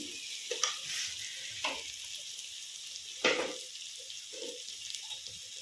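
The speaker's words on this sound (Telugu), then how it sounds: "ఇవైతే పోపు అయితే వేగిపోయిందండి." Spices for a khichdi tempering sizzle faintly in hot oil as coriander powder is added, with a few louder crackling bursts and stirring clinks over a low, continuous fry.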